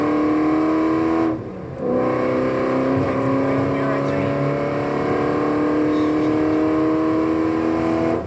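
A Ford GT accelerating during a high-speed police chase, a loud sustained engine drone with rising harmonic pitch, briefly dipping before climbing again, heard from inside or near the car with faint voices underneath.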